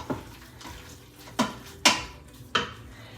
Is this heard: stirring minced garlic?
yes